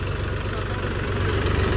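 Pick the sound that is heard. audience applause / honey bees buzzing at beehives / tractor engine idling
tractor engine idling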